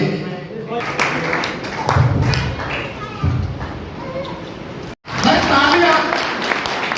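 An audience claps at a community honours ceremony in Meham, producing a loud, dense, sustained wash of applause that briefly drops out near the end before resuming, with voices talking over it.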